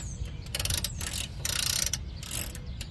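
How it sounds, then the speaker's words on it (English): An 18 mm socket on a 1/2 inch ratchet wrench tightens a bolt on a front shock and coil spring assembly, giving close, rapid clicking ratchet strokes in short bursts. "I'm using a 18 millimeter 1/2 inch socket wrench with this"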